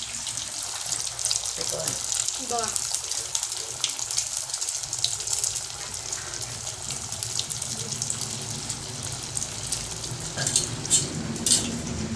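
Sago vadas deep-frying in hot oil give a continuous, bright, fizzing sizzle that stays steady throughout, with occasional stirring and splashing sounds over a low background murmur.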